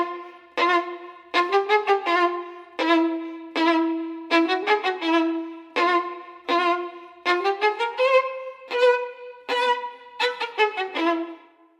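An Irish fiddle, a type of violin made of wood and metal, played with clearly separated bowed notes in short phrases and brief gaps, close and clear with no voices.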